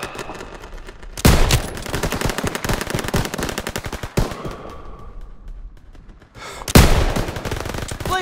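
Bursts of rapid machine gun fire from Call of Duty WW2 gameplay rattle loudly in sustained volleys, broken by short pauses, with heavy echoing booms between the streams of shots.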